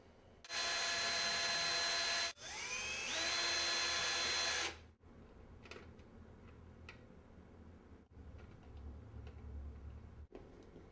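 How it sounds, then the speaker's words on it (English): A power drill boring screw holes into an amplifier plate for a homemade amp, with two loud sustained bursts separated by a brief pause and a pitch shift. Quiet handling clicks and taps follow. "So I can drill holes there."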